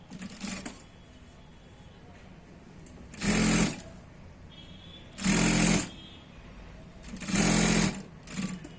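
A sewing machine stitches a Patiala salwar in three short, loud bursts of rapid mechanical whirring, separated by quieter pauses with faint handling noises, plus a brief start and finish at the edges.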